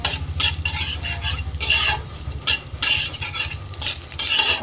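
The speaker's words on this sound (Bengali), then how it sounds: "জিরে, লঙ্কা, তেজপাতাটা খুব ভালোভাবে ভেজে নিচ্ছি।" Whole cumin, dried red chillies and bay leaves fry in mustard oil, a steady sizzle broken by repeated scraping stirs of a utensil against the pan, close and fairly loud.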